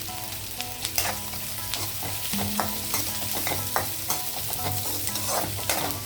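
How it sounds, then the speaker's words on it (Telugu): Green beans and onion fry in a pan while a spoon stirs them, producing a steady sizzle broken by repeated scraping and clinking strokes, close by with no talking. "ఆనియన్ కొంచెం ఫ్రై అయిన తర్వాత నేను బీన్స్ వేసాను."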